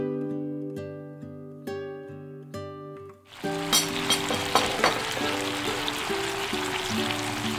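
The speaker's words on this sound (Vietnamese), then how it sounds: "Khuấy đều lên cho tan." A sauce of oyster sauce, chili sauce, sesame oil, water and sugar is stirred in a hot pan for an eggplant dish, a soft continuous sizzle and scraping swirl following a few seconds of background music.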